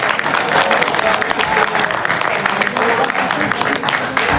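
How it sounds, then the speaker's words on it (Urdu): A live audience at an Urdu poetry gathering claps hard and continuously as the poet Syed Wasi Shah is welcomed, a dense, loud, even wash of applause throughout. "آپ کی بھرپور تالیوں میں"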